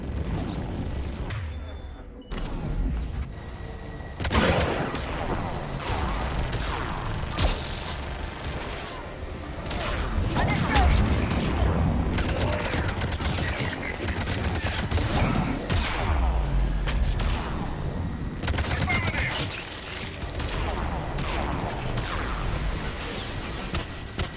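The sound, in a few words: missile and gun fire in Mass Effect 3 video game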